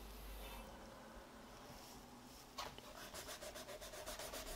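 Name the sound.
eraser rubbing out pencil construction lines on paper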